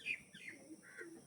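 Andhra breed pigeons for sale produce faint, scattered chirps and short calls, with a few brief bright notes over a soft, steady background.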